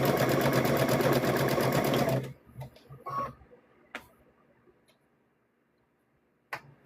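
Sewing machine stitching two fabric layers of a stuffed bear runs steadily and loudly for about two seconds, then stops, leaving faint handling clicks and rustles, a brief bump of movement and one sharp tap near the end.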